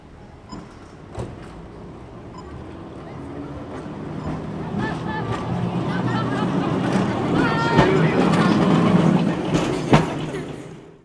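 The Auckland Dockline Tram rolls along its rails with a steady low rumble that slowly builds, broken by occasional clicks and clanks, while a voice talks over it.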